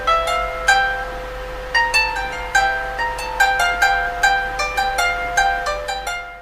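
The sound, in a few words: Malagasy valiha, bamboo tube zither with many strings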